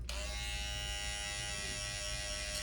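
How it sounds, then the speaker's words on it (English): Electric hair trimmer cutting a fade line, a close, steady high-pitched motor buzz that holds evenly throughout with no speech. "so now we grab our trimmer"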